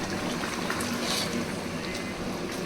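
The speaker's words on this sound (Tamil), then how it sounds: "கொதிக்குது." Seeraga samba biryani liquid with chicken bubbles in a pot, a steady soft boiling hiss and patter heard close up with no talking.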